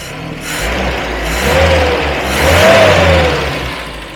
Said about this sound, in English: It sounds so sweet, this little A series.